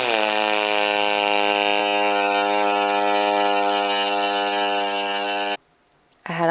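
A pulsed MIG spool gun runs 5356 aluminum wire on a hotter pass, making a steady, loud, harmonic buzz with a hissing edge for about five and a half seconds before it cuts off abruptly.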